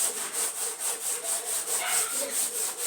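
A teacher rubs writing off a classroom board in a steady back-and-forth rhythm of soft, scratchy swipes, close and fairly quiet, with no talking.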